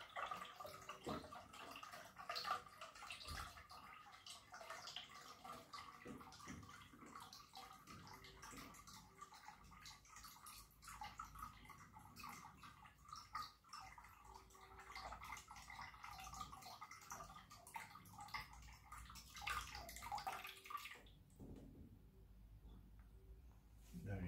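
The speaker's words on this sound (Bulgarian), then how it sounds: "И после ще премиеме с чиста вода." Water running and splashing while rinsing out a water dispenser, a continuous trickling pour with drips that stays faint and indoors, cutting off near the end.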